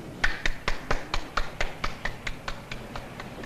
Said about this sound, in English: one guy was clapping at the end